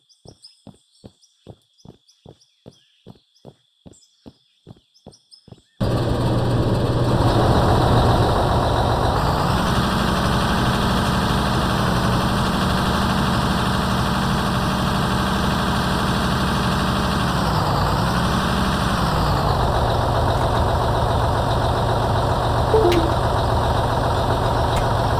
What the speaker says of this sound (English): I need the dumper.